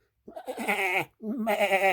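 A human voice imitates a sheep bleating for a farm animal story, giving two drawn-out, wavering baa calls close up with a short pause between them.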